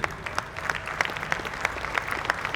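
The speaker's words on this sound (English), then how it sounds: "Let's have a round of applause for Brenda and Katie" Audience applause for archers Brenda and Katie at an indoor archery tournament final: steady clapping from a moderate-sized crowd, with individual claps popping out of a dense wash for a few seconds.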